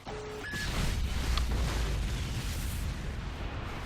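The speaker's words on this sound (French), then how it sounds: "Missile nucléaire tactique prêt." A tactical nuclear bomb goes off in a video game with a sustained, heavy rumbling roar that swells into a deep, continuous blast and holds loud for several seconds, preceded by brief interface beeps.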